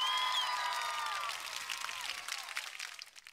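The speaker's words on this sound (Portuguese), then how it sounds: "os aplausos mais calorosos com assobio." Warm applause effect with whistling from a Comica AdCaster C1-K1 podcast interface pad: a crowd clapping and cheering with sharp whistles near the start, the applause gradually fading out.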